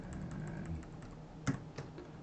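Quiet typing on a computer keyboard while entering an Excel formula, a light patter of keystrokes with a couple of sharper, louder taps, close and without talk.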